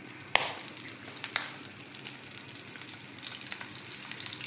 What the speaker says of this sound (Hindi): अब हम इसमें कबाब शामिल कर वो फ्राई करेंगे।